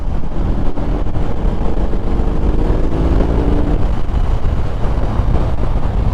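A BMW R18 motorcycle rolls on in fourth gear to overtake, its engine drone rising in pitch beneath a constant, heavy roar of wind buffeting the microphone.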